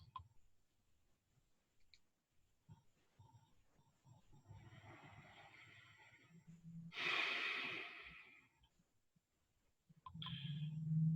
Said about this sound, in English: Keep taking a few deep breaths.